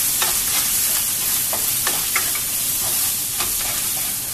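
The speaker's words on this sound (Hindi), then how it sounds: "धनिया पाउडर, जीरा पाउडर डाल के अच्छे से भून लो इसको" Coriander and cumin powder fry in hot oil for a hotel-style egg masala, a dense, continuous sizzle with scattered soft crackles and stirring scrapes, close and steady throughout.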